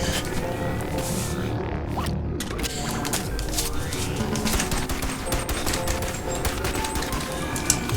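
Rapid gunfire in the Bonelab VR game as headcrabs are shot one by one, dense clattering shots and mechanical clicks running steadily throughout with busy game noise behind.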